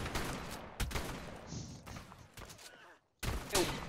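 Shotgun blasts in the survival game Ark during a PvP raid, several sharp booming shots fired close together amid other noise, then a brief silence before another loud burst.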